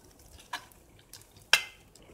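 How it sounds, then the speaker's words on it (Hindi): A spoon stirs a rose kulfi mixture of milk and rose syrup in a bowl, making a few soft scrapes and two distinct clinks against the side, with quiet gaps between. "इसको हम पहले चम्मच से थोड़ा मिक्स कर लेंगे।"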